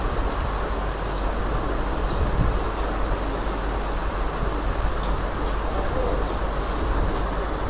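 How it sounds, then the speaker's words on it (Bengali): A flock of pigeons settling together in the heat, soft cooing under a steady broad outdoor hiss, with a few brief flutters near the end. "উড়ে যখন কবুতরগুলা নামে"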